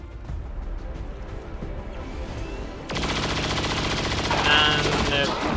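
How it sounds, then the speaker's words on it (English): Automatic weapon fire from a saturation fire attack in XCOM 2 breaks out suddenly partway through as a dense, sustained roar of rapid shots over steady background game noise. "use that saturation fire on those two"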